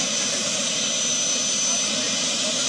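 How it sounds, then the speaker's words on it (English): A presidential jet lands at Nnamdi Azikiwe International Airport in Abuja, its engine roar loud and continuous, a steady broadband whine with a high tone running through it. "Presidential jet of President Bola Tinubu touching down at the Nnamdi Azikiwe International Airport in Abuja."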